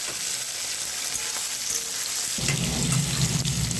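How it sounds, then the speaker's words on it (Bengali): Chicken and potatoes frying in a pan for a home-style curry, a loud continuous close sizzle that swells into heavier bubbling partway through, with no talking. "এবারে মাংসটাকে ভাজা ভাজা করে তারপরে এই মশলাগুলো দেবো এক এক করে"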